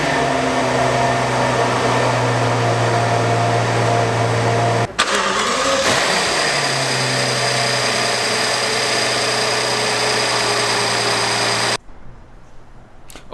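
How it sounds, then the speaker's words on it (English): A Rolls-Royce Ghost's twin-turbo 6.6-litre V12 engine starts with a brief crank and settles into a smooth, steady idle hum up close, then the sound drops away. "let's start up that engine."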